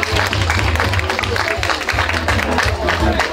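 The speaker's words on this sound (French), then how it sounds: "Je vous demande de vous applaudir." Audience at a French family association gathering applauding, dense continuous clapping with crowd murmur mixed in, steady for a few seconds.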